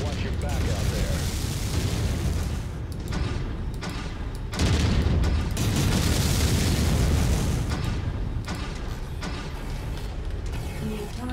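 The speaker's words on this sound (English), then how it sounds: "Enemy mech destroyed." A mech blows apart in a video game battle, heavy booming explosions rolling into a thick, sustained roar of rumbling debris and gunfire, with a voice talking under the din.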